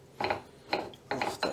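Screw jack rise-and-fall mechanism on a modified drill press, turning in four short bursts of dry mechanical ratcheting and grinding with brief pauses between, close and fairly quiet.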